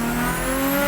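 A 700-horsepower Nissan Skyline GTR R32 with GSC cams, a six-boost manifold and a Xona Rotor turbo drones loudly and steadily at partial throttle from close by, a sustained engine tone with no pauses.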